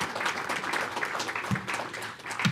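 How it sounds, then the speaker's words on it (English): Scattered, modest applause follows a presentation at a school board trustees' meeting, uneven hand claps from a small room audience that rise and dip without a clear peak. "Let's have a round of applause for our presentation."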